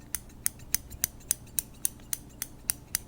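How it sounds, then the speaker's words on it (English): Ritual scissors snip repeatedly up close, about a dozen crisp metallic clicks in a steady, even rhythm with nothing else heard. "I'll show you my ritual scissors up close."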